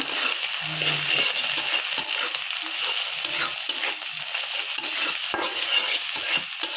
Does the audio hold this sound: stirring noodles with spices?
yes